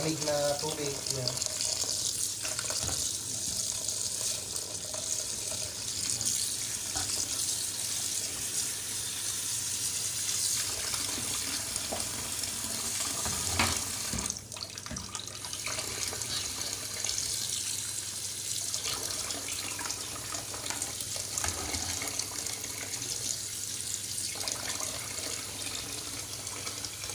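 Cold tap water runs steadily over cooked pasta being rinsed for sopas, a constant loud splashing stream into a sink that fills the whole stretch, with a brief clatter midway.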